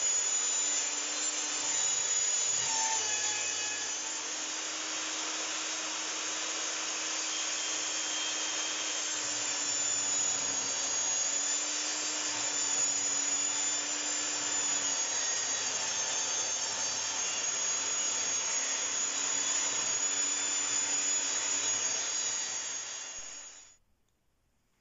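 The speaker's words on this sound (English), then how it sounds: "I'm just going to go and cut those down into 230mm lengths." A power saw cuts pine board into 230 mm lengths for a conservatory makeover, a steady sustained whine and rasp running continuously for over twenty seconds before cutting off abruptly at the end.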